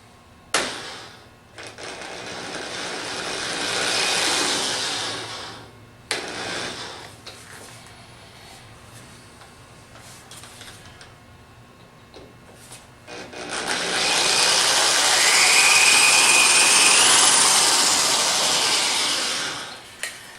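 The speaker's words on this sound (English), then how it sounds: "we're going to try to drill this as straight as we possibly can" Power drill with a carbide bit whines and grinds through a hardened Medeco high-security lock in several bursts, the longest near the end, with quieter pauses and knocks between.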